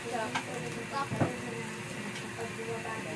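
Ripe bananas frying in oil for banana cue, a soft steady sizzle with occasional stirring clinks, with people chatting quietly over the cooking.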